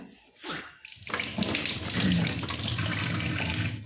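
Tap water runs steadily as hands are washed under it, beginning with a few brief splashes and then settling into a continuous close gush, with no talking.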